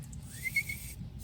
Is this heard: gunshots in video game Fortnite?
no